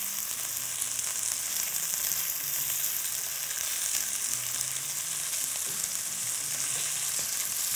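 Chicken pieces fry in a pan with a steady, bright sizzle and crackle throughout, close and continuous with no voices.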